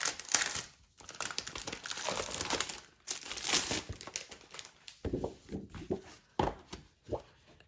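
Paper crinkles and rustles up close as sheets are handled, with bursts of crackling, brief pauses, and sharper crumpling toward the end.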